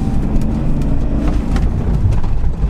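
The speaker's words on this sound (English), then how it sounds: "let's hit the road, have a little drive in a 330D" A BMW 330d diesel hums along on the road, a steady low engine drone with tyre and road rumble from inside the cabin, close and continuous with no talking.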